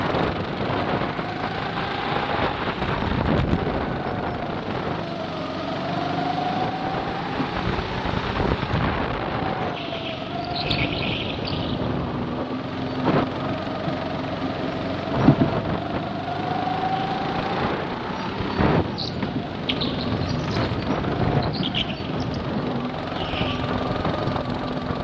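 A Mazda FC3S sports car drives a fast attack lap at Circuit Stadium Musashi, its engine droning continuously with pitch rising and falling through gear changes, accompanied by steady wind and road rumble.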